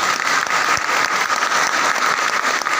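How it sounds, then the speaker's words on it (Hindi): A meeting hall audience applauds loudly and continuously, a dense close wash of many hands clapping with no pauses. "सोनू जी के लिए खतरनाक तालियां बजनी चाहिए"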